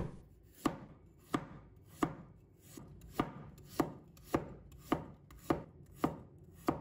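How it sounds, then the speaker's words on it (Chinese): A knife slicing fresh ginger into small pieces on a cutting board, with about ten sharp, evenly spaced chops at a steady rhythm, close and clear, and no talking. "再准备1块生姜，把它切成小片。"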